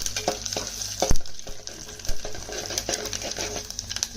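Tempering spices for pesarattu upma, mustard seeds, chana dal and urad dal, sizzle and crackle in hot oil, with sharp scattered pops and stirring clinks over a steady frying hiss.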